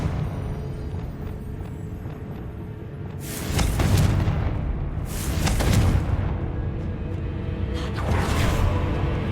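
Confringo fire spell explosions in the video game Hogwarts Legacy: three loud, separate booming blasts a couple of seconds apart, each flaring suddenly and then rumbling away over a low steady game background.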